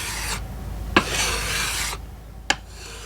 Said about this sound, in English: After the yeso grueso and yeso mate was applied, they would be smoothed.